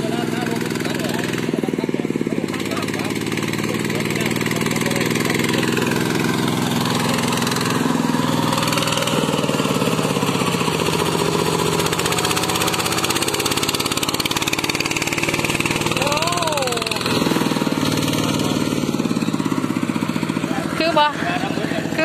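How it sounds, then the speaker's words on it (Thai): A small homemade tractor engine built by a family runs steadily at a constant idle-like chug throughout, loud and close, with people talking over it. "เพิ่นให้มาเบิ่งอันทดลองรถไถอันน้อยแบบผู้เฒ่าเฮ็ดได้ทำในครอบครัว"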